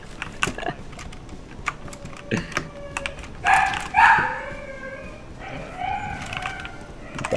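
Dog barking in short, sharp bursts at close range, several barks spread across the stretch with a clucking, crowing-like quality and some background clatter.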